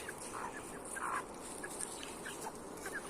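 A broody village hen makes low, repeated clucking sounds at close range, soft and irregular, over a quiet outdoor background.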